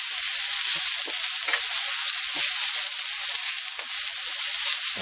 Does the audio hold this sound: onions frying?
yes